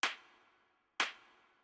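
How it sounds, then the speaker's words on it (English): Two sharp layered claps spaced about a second apart, each a bright snappy burst with a short tail, alone and close. "just different claps that I layer"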